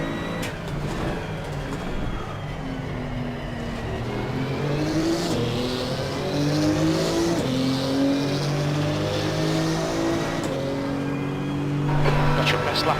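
Porsche 991 GT2 race car engine in Assetto Corsa Competizione at Laguna Seca, droning loud and continuous, its pitch climbing and dropping through gear changes and corners for the whole stretch.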